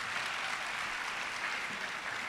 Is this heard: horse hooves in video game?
no